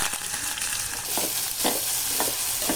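Chopped onions frying in hot oil with mustard seeds and cumin in a pan, a steady loud sizzle with stirring scrapes running throughout, no voices.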